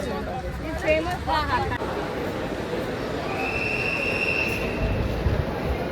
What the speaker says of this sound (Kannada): ಮುಂಬೈ ಲೋಕಲ್ ಟ್ರೈನ್ ಅಂತ. ಲೋಕಲ್ ಟ್ ರೈನ್, ಊರಿಗೆ ಟ್ರೈನ್ ಎಲ್ಲ ಸಿಗುತ್ತೆ.